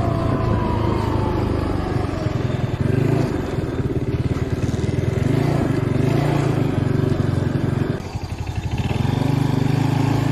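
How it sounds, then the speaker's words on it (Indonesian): A Yamaha Nuvo scooter engine runs steadily and close, a continuous buzzing drone with throttle blips, briefly dipping before picking back up. "Jadi harus kita gas begini teman-teman sehingga motor terasa stabil"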